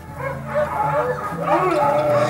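Sled dogs before departure on the Yukon Quest bark, yip and whimper excitedly, a dense overlapping chorus of high whines and yelps from many dogs close by, with people talking underneath.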